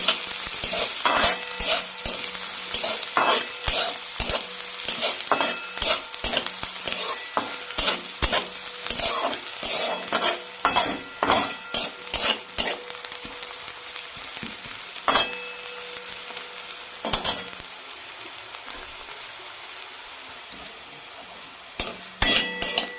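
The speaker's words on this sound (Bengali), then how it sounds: "পেঁয়াজটাকে একদম ভালো করে ভেজে নিতে হবে" Onions and chilies fry in a pan with a steady sizzle, punctuated by frequent scraping and clinking of a spatula as they're stirred, then quieter toward the end.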